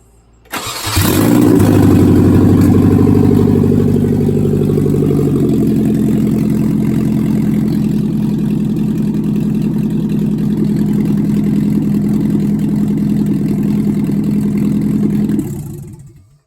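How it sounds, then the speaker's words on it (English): A swapped engine in a Nissan 240SX cranks and catches, then settles into a loud, steady idle that runs close and unbroken for about fifteen seconds before cutting off. "So yeah, we're gonna start it up for you guys."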